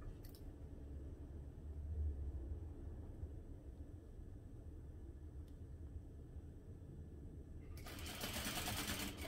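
Close up, a sewing machine backstitches a holiday armadillo stocking, its motor humming steadily for several seconds before rising into a louder, harsher run near the end.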